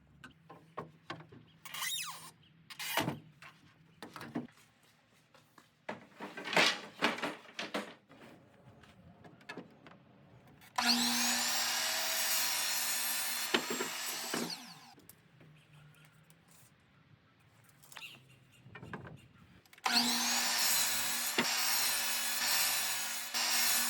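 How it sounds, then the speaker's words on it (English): A power saw cuts pine and oak slats for a plant stand in two loud, sustained bursts of whining blade noise, separated by quieter knocks and handling of the wood. "So here I'm finishing up the cuts for the top of the plant stand, which include 10 slats of pine and 4 slats of oak."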